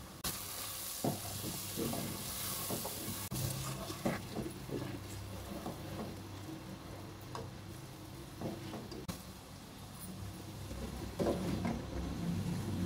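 Yogurt mixed with spices is stirred into beef frying in a pot for yakhni pulao. A steady close sizzle runs throughout, with scraping stir strokes and small clinks over it.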